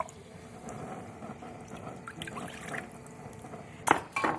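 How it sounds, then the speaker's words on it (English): Iced sparkling mineral water pours steadily into a container with a gentle fizzing quality, ending in a couple of sharp glassy clinks. "I'm starting with 3/4 of a cup of iced, sparkling mineral water."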